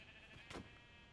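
A sheep in the video game Minecraft lets out one short, quiet bleat in the middle, set against a steady low game background.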